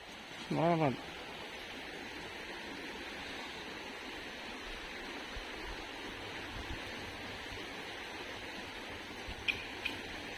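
Floodwater rushing in a steady, broad wash at Njeezhoor before the monsoon, a constant moderate roar with a brief rising tone near the start and a few faint clicks later.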